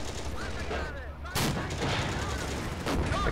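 A tank cannon fires a Panzergranate 39 round at a KV-1 in the Steel Fury game, a sharp boom partway through over a continuous engine rumble, with faint further impacts after.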